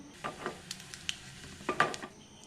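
Mustard seeds and urad dal crackle and sizzle in hot coconut oil for a tempering, with sharp pops and bursts over a soft, steady fry and a light stir.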